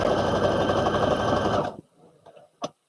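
A sewing machine runs steadily, stitching garment sleeves with a slower stretch stitch, loud and close for about a second and a half before stopping abruptly, followed by faint handling clicks and one sharp tap.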